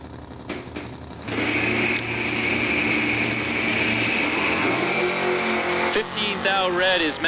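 Ford-powered 1990 Mustang and another drag race car at a dragway during an ET finals, engines droning loudly and steadily close by, then a sharp surge in revs near the end, with a commentator talking over them.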